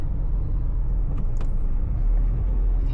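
A Suzuki S-Presso AGS sits in heavy rush-hour traffic near SM Mall of Asia, giving a steady low idling rumble inside the cabin with a couple of brief faint squeaks from surrounding vehicles.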